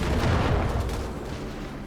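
Strafing-run gunfire in Company of Heroes 3, a dense, loud rattle of shots and booms that swells early and then tails off slightly over a couple of seconds, with no voices.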